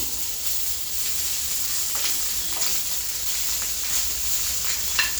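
Grated ginger and garlic frying in butter in a pan for kadai paneer, a steady bright sizzle with faint crackles and stirring scrapes, close and continuous throughout.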